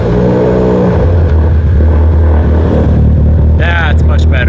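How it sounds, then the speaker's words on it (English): A Mitsubishi Evo, now fitted with a new battery, cranks briefly and catches, then settles into a loud, steady idle close to the microphone. A voice is heard briefly near the end. "you guys heard how slow this thing was to crank"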